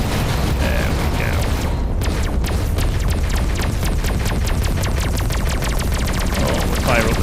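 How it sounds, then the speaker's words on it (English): Gauss cannon in the space shooter Everspace 2 firing a rapid, evenly spaced stream of loud pulses over a dense, roaring engine and combat backdrop, with no break for the whole stretch. "Oh, we'll fire up with the gauze cannon."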